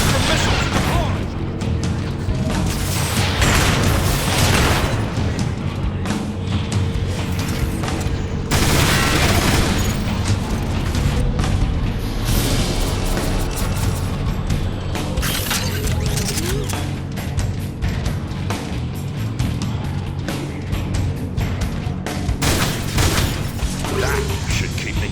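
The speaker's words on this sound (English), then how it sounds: "Spectrum missiles deployed!" Spectrum missiles exploding in the Transformers War for Cybertron shooter, dense continuous barrage of blasts, crashes and gunfire filling the whole stretch, with voices shouting over the din.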